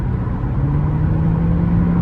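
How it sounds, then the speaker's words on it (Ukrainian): A Toyota Auris engine hums and growls steadily as the driver presses the throttle, a loud, low, continuous drone heard from inside the car. "зараз я дам газу, вона одразу підкидає типу, і починає гарчати"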